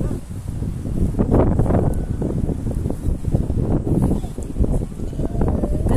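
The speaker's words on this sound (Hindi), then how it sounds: "हवा चल रही है तेज" Strong wind at a beach blowing across the microphone, a loud continuous rumble with gusty buffeting and faint rustling.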